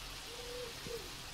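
Bird call in a modded Minecraft game, a soft hooting note held briefly then a second short hoot, faint over a steady low background hiss.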